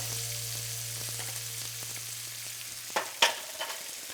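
Salmon fillets fry in a pan with a steady broadband sizzle, joined by a low constant hum and a few sharp clinks and pops near the end; no talking.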